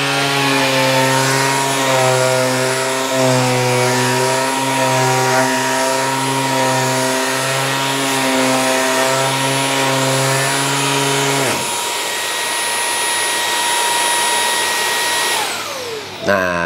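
A DeWalt DWH161N 18V cordless mini vacuum runs loud and close with a steady high motor whine and airflow hiss, then cuts off near the end as the motor winds down.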